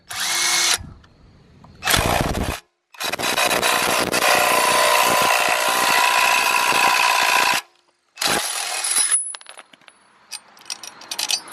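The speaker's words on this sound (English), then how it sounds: "But slip it on, get your electric impact." An electric impact wrench hammers wheel lug studs into place in several loud bursts of rattling, whirring impacts separated by short pauses, close up and with no talking.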